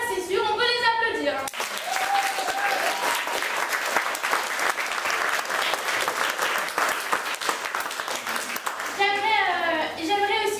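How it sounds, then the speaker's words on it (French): Audience applause at a theatre ceremony during an international dance workshop event: sustained, dense clapping from a full hall fills most of the moment, with a speaker's voice briefly before and after. "on peut les applaudir"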